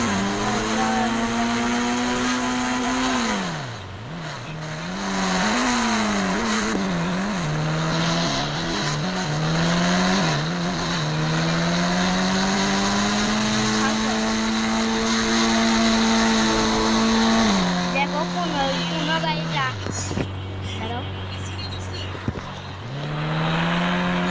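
An old, battered car driving home late at night, its engine droning close and loud with pitch rising and falling as it changes speed, easing off near the end; no talk over it.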